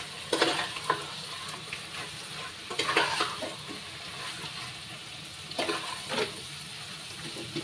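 Liver curry stirred in an oily pan, soft sizzling with scraping stir strokes in bursts, moderately close and quiet.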